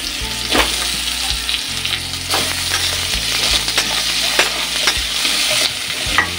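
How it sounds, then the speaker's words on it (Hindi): Diced potatoes roasting in a hot pan for a capsicum and potato sabzi, sizzling steadily with repeated scrapes and clinks of a stirring spoon, close and fairly loud with no talk. "अब डाल देते हैं आलू, थोड़ा सा इन्हें रोस्ट कर लेते हैं"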